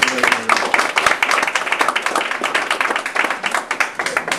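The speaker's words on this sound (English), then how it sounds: "I want to do a round of applause" A room full of people at a health system recognition event gives a round of applause, dense and continuous clapping that holds at a steady level throughout.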